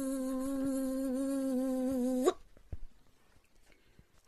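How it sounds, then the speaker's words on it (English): A fuzzy bee on a sunflower drones with a steady, close buzz for about two seconds, then cuts off abruptly into near silence. "buzzy bee."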